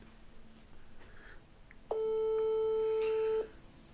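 A phone-call tone on WhatsApp sounds as one steady electronic beep of about a second and a half with harmonic overtones, alone over faint room hiss.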